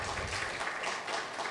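An audience at an art show awards ceremony applauds a winner with a brief, dense burst of clapping from many hands throughout.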